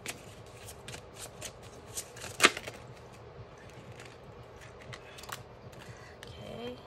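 Tarot cards are shuffled by hand in a quiet room, a series of soft riffling and flicking bursts with one sharper snap partway through, close and faint.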